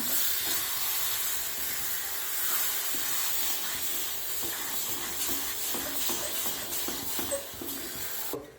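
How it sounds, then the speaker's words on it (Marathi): Cashew and onion paste sautéing in a pan, giving a continuous loud hiss and sizzle with faint scraping throughout and a brief clatter near the end. "आता यामध्ये टाकूया ही आपली काजू आणि कांद्याची पेस्ट याला छान परतून घेऊया"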